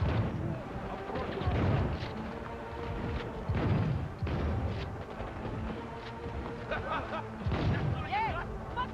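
Gunfire in the video game Cyberpunk 2077 comes as repeated heavy bursts and booms across the clip, mixed with game voices and shouted talk.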